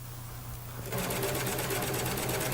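A Simplicity Easy Lock serger stitches fabric: a quiet hum for the first second, then a loud, steady, rapid mechanical whir that runs to the end, with no voices.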